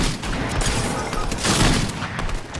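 Pump shotgun firing in a video game, loud continuous gunfire and blasts packed into a short, dense burst with no clear gaps.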